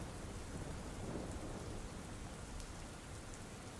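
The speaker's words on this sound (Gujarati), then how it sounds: "શહેરમાં સાર્વત્રિક વરસાદ વરસ્યો છે" Heavy rain falls across the streets of Navsari city, a steady, even hiss of downpour heard at a fairly low level with no voices.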